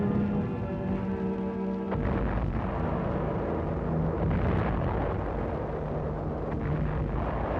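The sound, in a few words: explosion of ammo dump hit by mortars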